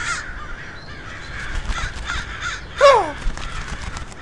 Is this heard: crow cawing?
yes